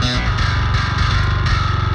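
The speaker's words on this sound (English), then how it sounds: "For this video, I'm gonna use the built-in tone in DjinnBass," Heavily distorted, processed bass tone from the DjinnBass 2 virtual bass plugin's built-in preset for modern metal, playing a loud, steady run of chugging notes alone.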